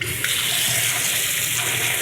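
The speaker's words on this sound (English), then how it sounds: "I want to show you how to wash rice." Tap water runs steadily into a bowl of brown rice being washed in a sink, a loud, bright, continuous splashing gush with no talk.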